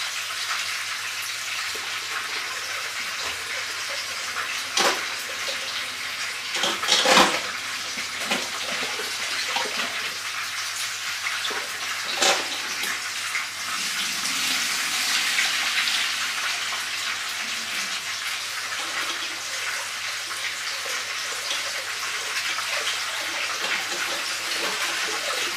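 Rice is rinsed under a running tap in a home kitchen, the water hissing continuously with swishing and a few sharp clatters as the grains are stirred in the bowl.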